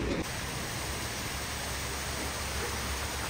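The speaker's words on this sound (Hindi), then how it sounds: "ये पानी की क्या आवाज़ आ रही थी यहाँ से, एकदम जोरदार नीचे जा रहा है यहाँ से।" Mountain water rushes steeply downhill in the Himalayas near Mana village, a dense, steady roar that fills the whole stretch without pause, close and loud with no talking.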